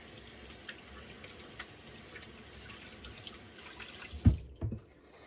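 Water runs steadily into a kitchen sink in a home kitchen where drop biscuits are being made, then the flow cuts off abruptly with a couple of close clunks near the end.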